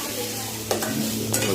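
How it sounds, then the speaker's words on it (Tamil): Green chillies sauté in a hot pan for paneer fried rice, a close, even sizzle broken by two quick scraping stirs of a spoon. "அப்படியே வதக்கிட்டு பச்சை மிளகாய் நல்லா ஓரளவுக்கு"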